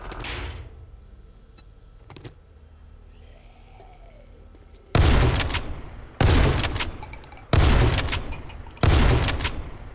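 Rifle gunfire in the survival game 7 Days to Die: four loud, evenly spaced single shots in the second half, each with a short decaying tail, preceded by quieter clicks and faint background sounds.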